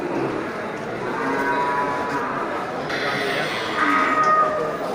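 Aceh cattle low repeatedly amid a busy livestock market crowd in Bireuen, with voices talking underneath, the moos drawn-out and moderately near.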